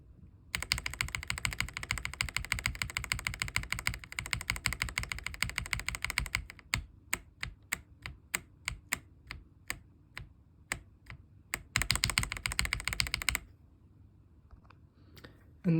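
Pre-lubed switches on a Gamakay SN75 keyboard clatter in fast, even typing runs, with slower single keystrokes in the middle before another quick burst. Every press comes through close and crisp, with no voices.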